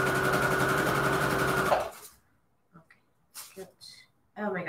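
Sewing machine stitching a string-quilt junk journal cover, a loud, close, steady whir lasting about two seconds before stopping abruptly, followed by quiet handling sounds and a burst of talk at the end.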